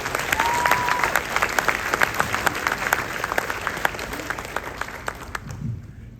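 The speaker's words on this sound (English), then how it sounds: "If we could just have a round of applause for our Board of Education." Steady applause from an audience at a high school concert band spring concert, dense clapping that fills the room at a constant level before fading out near the end.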